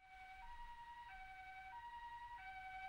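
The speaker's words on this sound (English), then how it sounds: "It's just an emergency vehicle driving around outside," A two-tone emergency siren alternates steadily between high and low pitches, distant and moderately faint against a low background rumble.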